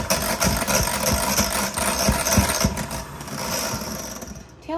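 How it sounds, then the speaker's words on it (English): Electric mixer blending softened cream cheese and butter for a lemon gooey butter cake, a steady close motor whir with rhythmic low thumps of beaters against the bowl, continuous throughout. "We're just going to use that same mixer and get those two blended."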